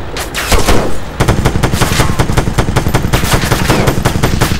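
Rapid automatic gunfire from the military shooter game Arma 3, loud and continuous, with fast rhythmic bursts that run almost without pause throughout.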